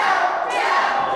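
A wrestling crowd at a live match yells steadily for a submission, a dense sustained roar of many voices with a rising shout near the end.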